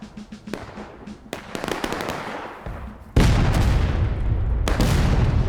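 Loud, booming artillery cannon fire in the War of Rights Civil War battle game, with scattered distant musket pops followed by a heavy blast and a long rolling rumble, then another sharp report.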